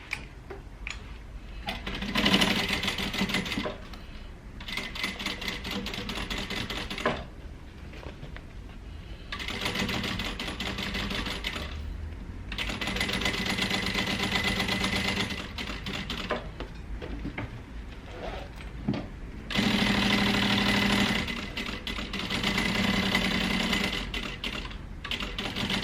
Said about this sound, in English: these get sewn together at 1/4 inch